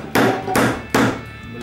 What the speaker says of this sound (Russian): Попробуем забить гвоздь дальше.